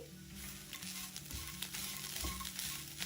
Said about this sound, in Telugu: కొబ్బరి వేగాక లాస్ట్గా 2 వెల్లుల్లి గబ్బాలను వేసి వేయించుకోవాలి.